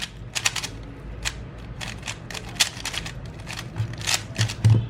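A MoFang MF3RS3M 3x3 Rubik's cube turned in quick bursts, producing rapid plastic clicks and clacks in uneven flurries, close up and alone with no talking.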